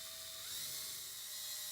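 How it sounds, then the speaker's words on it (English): A power drill with a 1/4 inch bit bores holes through a metal door to fit a Von Duprin 22 exit device, giving a steady high-pitched whine that climbs slightly in pitch partway through. "the inside holes are drilled with a 1/4 inch drill bit"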